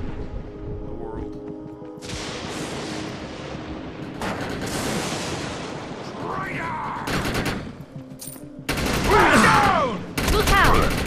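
Sustained automatic assault rifle fire from the sci-fi shooter Defiance, loud and continuous bursts with louder volleys near the end, mixed with game effects and some voice chatter.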